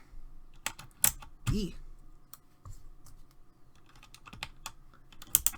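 Keys on a Corsair K95 keyboard fitted with swapped keycaps are pressed one at a time, giving sparse, loud, close clicks, with a brief spoken word.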